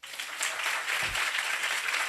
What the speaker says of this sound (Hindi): एक बार उसकी महिमा के लिए ताली बजाओ।